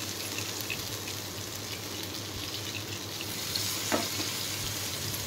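Whole pointed gourds coated in batter deep-fry in hot oil, giving a steady, even bubbling hiss with a small splash or stir toward the end.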